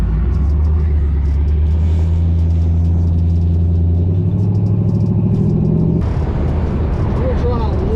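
An LS-swapped Chevrolet C10 truck accelerates hard, a loud, steady engine roar with rising, revving harmonics that shift abruptly near the end, close and continuous throughout.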